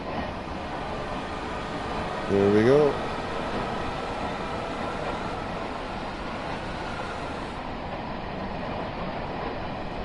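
A Long Island Rail Road train rumbles steadily past in Train Sim World, a broad continuous mechanical drone held at an even level throughout, with a brief horn-like tonal swell and someone talking over it near the start.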